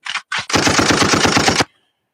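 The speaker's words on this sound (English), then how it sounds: "Yes, some gunshots for the salute." Gunfire fired as a salute: two short separate bursts, then a loud sustained rapid-fire stream of shots lasting about a second before cutting off into silence.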